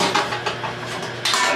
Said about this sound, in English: And the tray just slides in